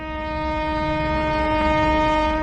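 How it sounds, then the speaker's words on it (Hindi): Train passing near a railway line, heard as a loud steady horn-like tone over a continuous low rumble of rolling wagons, with no voices. "ये ट्रेन की आवाज कहां से आ रही है?"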